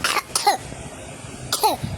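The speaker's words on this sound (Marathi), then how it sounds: "खूप खोकला येतो" A person coughs twice, nearby, with a quiet pause between the two harsh bursts.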